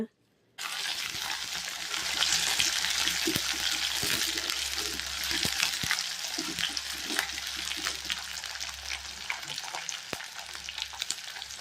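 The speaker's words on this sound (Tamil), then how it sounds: "நம்ம உரிச்சு வச்சுருந்த சின்ன வெங்காயம் கருவேப்பிலை சேர்த்து நல்லா வதக்கிக்கலாங்க" Small shallots and curry leaves sautéing in hot oil in a pan. After a brief moment of silence, a loud, dense sizzle starts abruptly and continues steadily, with scattered pops and stirring scrapes.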